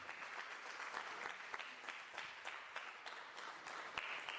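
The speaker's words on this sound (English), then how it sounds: "Can you please give them a round of applause, please?" A workshop audience breaks into steady applause, a dense wash of clapping with a few sharper individual claps standing out, fairly distant and quiet.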